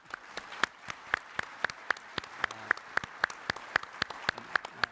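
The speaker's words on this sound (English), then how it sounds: "Sandy, you deserve an applause." Sparse, regular claps from a small group at an award presentation, each sharp slap evenly spaced about three per second, fairly faint and distant in a quiet room.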